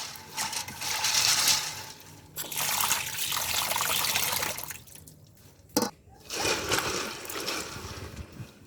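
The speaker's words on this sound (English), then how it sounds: "let's go and wash our peas" Peas for a Jamaican seafood stew are washed in water, with splashing and trickling in bursts that stop, followed by a short knock, then more sloshing.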